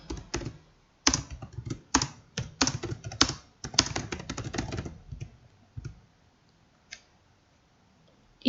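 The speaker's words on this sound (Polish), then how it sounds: "I wpisujemy nazwę banku." Keys on a computer keyboard clatter in close, quick bursts of typing, likely entering a bank name into Rewizor GT accounting software, with short pauses and a few isolated taps near the end.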